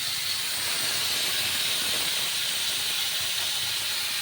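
Water poured onto cauliflower in a hot pan sizzles with a loud, steady, unbroken hiss from start to finish.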